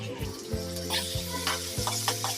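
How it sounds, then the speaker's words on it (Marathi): Onion and thecha, a crushed chili paste, sauté in a pan with a soft sizzle and rhythmic spatula taps and scrapes, over a steady low humming drone. "छानपैकी कांदा आणि तो ठेचा परतून घेत आहे"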